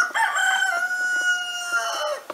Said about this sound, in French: quand le coq chante comme ça, c'est qu'il y a un souci